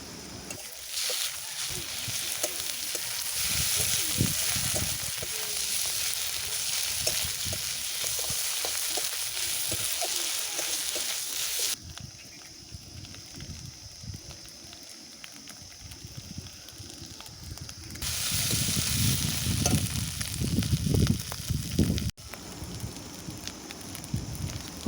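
Garlic and ginger paste hitting hot oil for a Bengali-style chicken curry, a dense crackling sizzle that continues throughout, dropping away for a few seconds midway and then surging again, with occasional stirring and a voice now and then.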